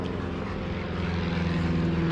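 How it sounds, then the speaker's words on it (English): A propeller airplane drones steadily overhead in the woods, a continuous low engine hum with a faint pulsing beat that holds at moderate loudness for about two seconds, with no talking. "Hi, airplane."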